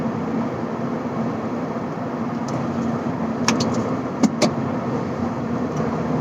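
Steady cabin rumble from a 2007 Mitsubishi Colt with a robotized automatic gearbox accelerating in fifth gear, a broad constant road-and-engine noise with a few sharp clicks partway through.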